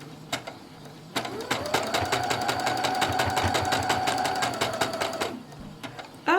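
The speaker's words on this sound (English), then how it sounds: "you're going to hear a clunk. That's me going over the DMZ, the seam between the contrast fabric and the pink fabric right here." Sewing machine running steadily for about four seconds while stitching over a thick seam between contrast fabric and pink fabric, a fast even mechanical chatter with a clunk as the needle crosses the seam, clicks before and after, no talk.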